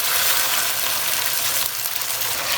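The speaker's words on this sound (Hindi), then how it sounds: "तकरीबन 2 से 3 मिनट तक मसाले की हमने अच्छी तरह से भुनाई करनी है।" A blended paste of onion, garlic, ginger and green chili fries in melted ghee for Lahori chana, making a loud, even, continuous sizzle close up with no speech.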